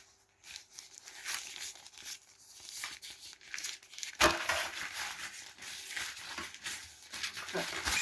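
Paper being handled and crumpled while cheese squares are prepared for a holiday recipe, with close crinkling and rustling throughout and a sharp louder crackle midway.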